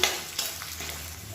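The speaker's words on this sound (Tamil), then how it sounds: "இது எல்லாமே நல்லா வதங்கட்டும்." Kashmiri chillies, tamarind and garlic are sautéed for a chutney, giving a continuous close sizzle with a faint stir partway through and no voices.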